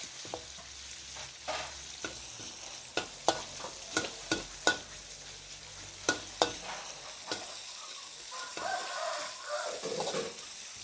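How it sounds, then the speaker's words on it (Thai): Pork stir-frying in a pan with fried garlic, a soft sizzle broken by repeated clacks of a spatula against the pan in an uneven rhythm, with a brighter hiss near the end. "ผัดหมูค่ะ ใส่หมูนิดนึงนะคะ ผัดหมูให้สุก"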